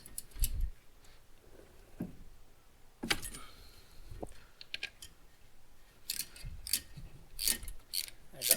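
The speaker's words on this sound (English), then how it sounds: "Let me get that 1/2 inch ratchet" A half-inch ratchet with a socket works on a 1965 Chevy Nova front end, giving scattered metallic clicks and clanks with pauses between bursts, fairly close but quiet.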